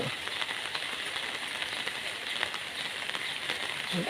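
Steady rain pouring down, a dense continuous hiss of drops hitting a surface with no voices.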